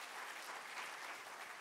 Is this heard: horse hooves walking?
no